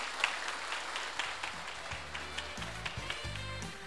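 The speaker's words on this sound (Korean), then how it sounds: "우리 감사의 박수 같이 하죠" Soft applause from a civic round-table audience of citizens runs throughout, with voices and tonal sounds emerging underneath in the second half.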